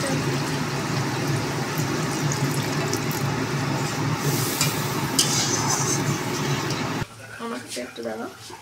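Fish curry gravy with mustard and green chilli paste bubbles and simmers in a pan, a steady close sizzling hiss that ends abruptly partway through, after which a voice speaks over quieter kitchen sounds.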